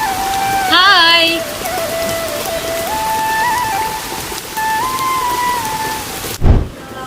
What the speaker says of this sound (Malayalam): ഇന്നിപ്പോൾ രാവിലെ മുതലേ മഴയാണ്.